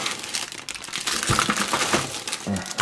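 Plastic bags holding ZIMO model railway decoders crinkle and rustle continuously at close range during unpacking, with irregular crackles and soft thumps.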